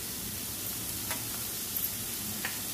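Asafoetida hits hot oil while frying dodkyachi bhaji, a ridge gourd vegetable dish, giving a steady, close, hissing sizzle with a few light ticks and stirring clinks; no voices.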